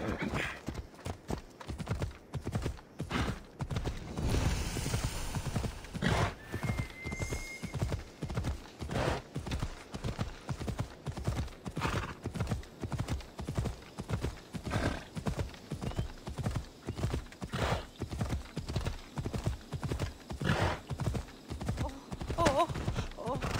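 A horse gallops in the video game Assassin's Creed Odyssey, its hoofbeats pounding in a fast, steady rhythm for the whole stretch, with a whinny rising partway through.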